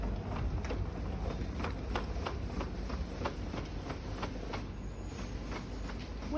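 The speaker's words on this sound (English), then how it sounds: "we grab our winder, which is just in underneath the bed here, hook it in" Hand winder cranking out a Fiamma awning on a caravan, a soft steady series of rhythmic clicks and rattles at a regular pace, close and fairly quiet, with no talk.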